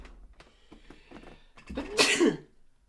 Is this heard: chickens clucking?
no